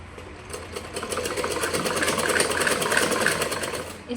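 A sewing machine stitches piping onto a Prince-cut blouse with a steady, rapid mechanical chatter that builds and holds, close up and alone.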